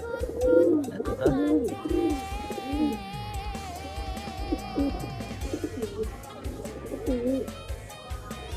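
Fancy high-flying pigeons in a loft cooing repeatedly, soft throaty rolling coos that rise and fall close by, with faint background tones between calls.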